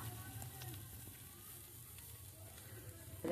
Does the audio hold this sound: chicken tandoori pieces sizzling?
yes